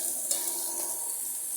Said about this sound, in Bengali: আমরা এখন পেঁয়াজটা ভাজছি